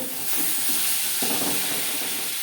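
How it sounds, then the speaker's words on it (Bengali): A spatula steadily scrapes and stirs a thick grated-carrot laddu mixture in a hot pan, with a continuous soft sizzle and rustle close by. The sound is fairly loud and unbroken, and no one speaks. "এই পর্যায়ে অনবরত নাড়াচাড়া করতে হবে না হলে তলা লেগে যাওয়ার সম্ভাবনা থাকতে পারে এইভাবে নাড়াচাড়া করে করে"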